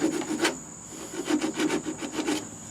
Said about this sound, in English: we're just finishing up sanding these little nibs down